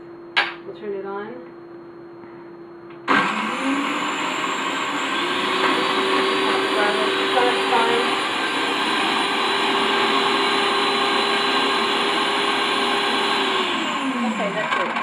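Food processor chopping garlic in a home kitchen, starting with a sharp jump to a loud, steady whirring roar that holds for about twelve seconds before winding down, after a brief murmured voice.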